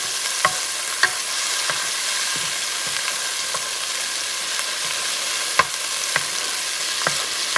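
Tomato sauce sizzles in a pan for a Puerto Rican style bison stew while a spoon stirs it, soft steady frying hiss punctuated by light scraping clicks at irregular intervals, close and alone.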